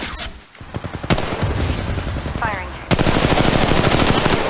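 Automatic gunfire in the Apex Legends Mobile video game, loud rapid bursts in quick succession, a short break and then a dense continuous volley, with a voice briefly heard underneath.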